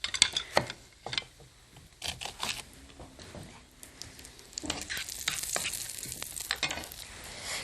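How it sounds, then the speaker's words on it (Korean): Lotus seeds stir-frying in perilla oil in a frying pan, a quiet sizzle with intermittent scraping and clicking of stirring, close and soft, without talking. "지금 프라이팬에서 볶아지는 게 연밥이라고 그러는 연자입니다."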